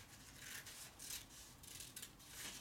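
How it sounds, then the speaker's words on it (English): Scissors snipping through paper in a run of quick, soft cuts, fairly faint and alone with no talking. "Now I'm going to turn the paper around, and I'm going to make cuts in the opposite side."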